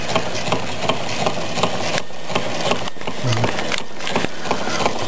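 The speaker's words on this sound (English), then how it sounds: "And there's the Stirling engine there from the back." A candle-powered Meccano Stirling engine runs steadily close by, its flywheel and piston giving a continuous mechanical rubbing whir with faint rhythmic knocks throughout.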